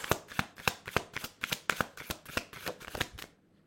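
Tarot cards are shuffled close up for a reading, about a dozen crisp, rhythmic riffling flicks in quick succession, then stopping into silence.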